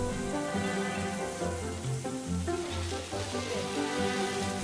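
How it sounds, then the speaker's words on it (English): Oysters mixed with sweet potato starch, garlic chives and eggs fry in hot oil as a Quanzhou street snack, giving a steady, dense sizzle that stays loud and continuous without talk. "Fried oyster is a local snack that also uses sweet potato starch. Mixed with garlic chives and eggs, they are quickly fried until golden."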